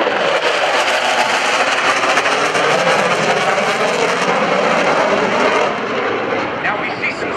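F/A-18C Hornet jet at an airshow, a loud continuous roaring jet engine rumble close by, steady throughout with an announcer talking over it.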